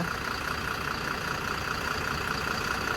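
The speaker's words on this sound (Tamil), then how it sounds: "இந்த வால்வோவோட இன்ஜின் சவுண்டை ஒரு ஃபியூ செகண்ட்ஸ் வந்து கேளுங்க" A Volvo multi-axle bus engine idles steadily at close range, a constant low rumble with a droning mid-range hum and no voices.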